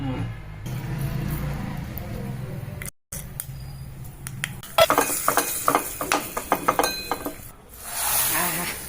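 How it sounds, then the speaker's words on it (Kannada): Ghee tempering sizzles in a pan for a fresh green chickpea curry. A quiet stretch with light clinks gives way to a burst of crackling and sizzling, heard close, with a voice speaking over parts of it. "ಇದಕ್ಕೆ ತುಪ್ಪದ ಒಗ್ಗರಣೆ ತಿನ್ನಷ್ಟು ರುಚಿ ಆಗ್ತಾ ಇದು"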